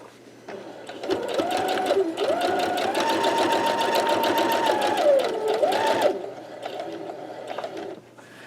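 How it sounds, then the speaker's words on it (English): Sewing machine stitching a quilt block, its rapid needle chatter speeding up and easing off in smooth swells, starting and stopping cleanly with no speech. "We're going to sew to this point again."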